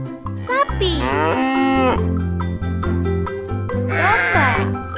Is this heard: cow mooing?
yes